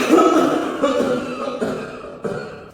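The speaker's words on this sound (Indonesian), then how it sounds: "Batuk yang benar itu kayak gini nih." A few rough, throaty coughs in close succession, loud and near, with brief pauses between each burst.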